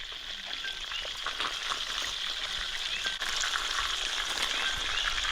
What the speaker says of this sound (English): We'll flip them, and we'll keep that fryer rolling.